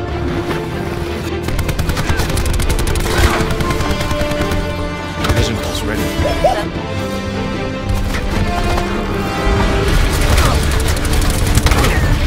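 A full magazine emptied in a shooter video game, with steady rapid gunfire and heavy booms filling the whole stretch, loud and continuous, with faint voices now and then.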